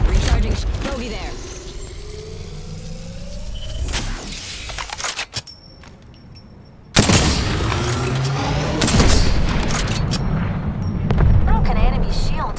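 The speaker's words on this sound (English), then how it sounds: "firing missiles" Missiles launching in a video game, with booming blasts and whooshing bursts: one mid-level stretch, a sudden loud burst near the middle, then more rumbling launches, while a voice speaks over much of it.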